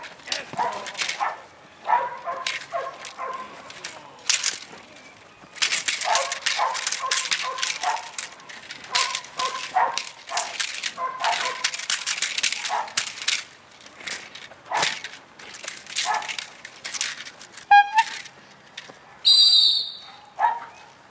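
Dog during bite work training, with scuffling, bursts of barking and yips, and a sharp whistle blast near the end, amid scattered movement noise over about twenty seconds.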